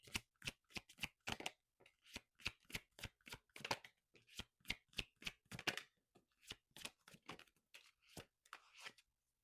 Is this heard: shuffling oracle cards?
yes